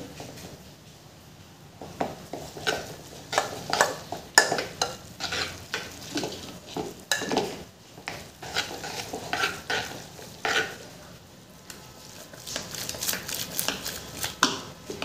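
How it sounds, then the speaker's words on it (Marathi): Aloo fatfata, a thin colocasia-leaf curry, being stirred and mixed with gram flour in a pot, with repeated close spoon scrapes and clatter against the vessel in an uneven rhythm over a low sizzle. "अशा तऱ्हेने आपण हे छान मिक्स करून घ्यायचं आहे."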